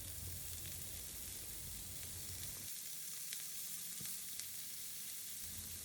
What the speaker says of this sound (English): we will stir the broccoli florets for a few seconds